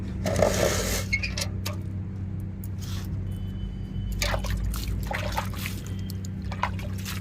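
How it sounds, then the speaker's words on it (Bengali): Freshly dug potatoes being rinsed in water outdoors in a garden, with steady splashing and trickling under a constant low hum, growing busier in bursts toward the end. "চলুন আলুগুলোকে একটু ধুয়ে নিই এখানে"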